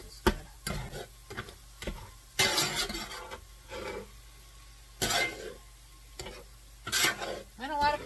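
Chorizo elk meat sizzles in a pan while a spatula scrapes and stirs it in repeated short bursts, with quieter frying crackle between strokes.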